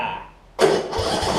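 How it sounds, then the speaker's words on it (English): Yard Machines riding lawn mower engine cranking and catching, a sudden loud start after a quiet moment, then running rough and steady. "the way that you have to start a mower, or this mower, that you have to have the brake down"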